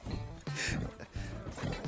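Horse sounds from the Red Dead Redemption video game: a short snort and stamp of a nearby horse, followed by a shuffle, with faint background noise and brief talk mixed in.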